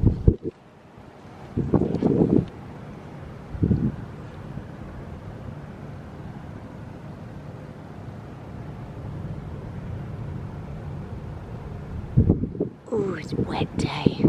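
Steady wind noise on a wet, windy day buffets the microphone throughout, with a few brief low thumps and rustles near the start and end.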